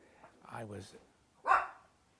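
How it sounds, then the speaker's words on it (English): Dogs bark nearby in two short bursts separated by a brief pause, fairly quiet and otherwise alone. "here comes the dogs."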